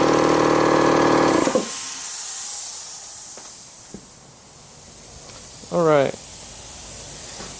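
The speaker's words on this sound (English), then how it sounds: "That's how I'm spraying them all with the door handle open right now" Base coat sprayed from a paint gun onto truck door handles: a loud, hissing burst of spray at the start, then a quiet room with a few small knocks and a short squeak, and a voice speaking briefly.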